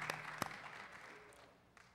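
A church congregation at Third Baptist Church applauds the women, a brief burst of clapping from a crowd that fades quickly into a lingering room hum, with a few scattered sharp claps standing out.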